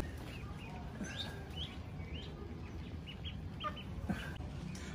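Miniature chickens, among the world's smallest breeds, cluck and chirp in short scattered calls over a steady background hum, moderately near and fairly quiet, with no talking.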